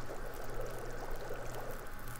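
Water boiling over a fire in The Long Dark survival video game, a steady, even bubbling hiss with a low hum underneath, continuous and unbroken.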